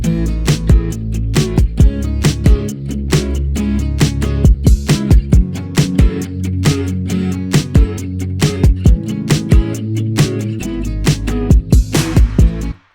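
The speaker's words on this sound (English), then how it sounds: "that is how I got a real sounding acoustic guitar in this particular song" An FL Studio song hook built around a real-sounding virtual acoustic guitar plays loud and steady for about thirteen seconds, with sustained chords under a busy pattern of sharp percussive hits, ending abruptly.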